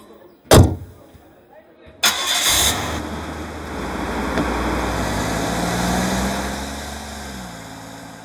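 A car door thuds shut, then a car engine cranks and catches, settling into a steady mid-pitched idle that rises slightly before easing off near the end.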